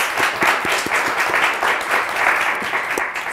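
Studio audience on a Turkish word game show applauds, a steady dense wash of clapping with a few sharper claps standing out, loud and continuous throughout.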